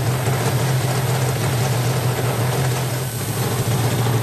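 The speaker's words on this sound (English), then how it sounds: "Start the engine, then connect the lead cable of the timing light to the number 2 high tension cord" A Yamaha RD500 two-stroke motorcycle engine idles steadily and loudly up close during a workshop timing check, with a constant low mechanical drone and rattling texture throughout.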